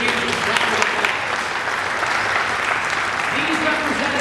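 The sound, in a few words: audience applause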